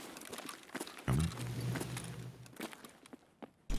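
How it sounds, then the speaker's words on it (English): Soft, irregular footsteps in the tactical shooter Escape From Tarkov, a few muffled thuds and scuffs at moderate distance over low background ambience, with one firmer step near the end. "I think I heard footsteps."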